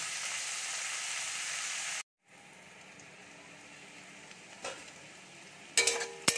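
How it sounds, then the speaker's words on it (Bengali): Chopped onions frying in a pan make a steady, bright sizzle. It cuts off briefly, then returns softer, and a few clinks of a stirring utensil sound near the end. "পেঁয়াজটা ভাজা হয়ে গেছে"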